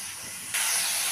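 Small pieces of boneless chicken hit hot oil with chopped garlic, and a soft background hiss jumps suddenly into a louder, steady sizzle, close and brief.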